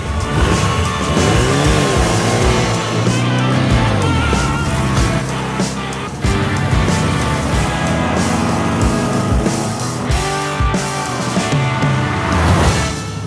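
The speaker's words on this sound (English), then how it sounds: "This is a beach buggy." A VW Beetle-based beach buggy from The Grand Tour drives along, its engine note rising and falling through loud, continuous revs with brief dips, close to the listener.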